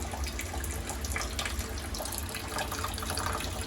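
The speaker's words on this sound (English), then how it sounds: "we should be starting to get water into our barrel here pretty quick." Water pours steadily into an aquarium swirl filter barrel, a continuous broadband rush and splash that stays even and fairly loud throughout, with no talking.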